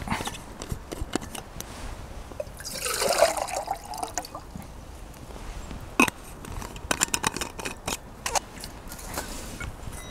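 Water is poured into a camp cooking pot outdoors, a brief gurgling splash around the three-second mark, followed by scattered clinks and handling knocks against quiet background.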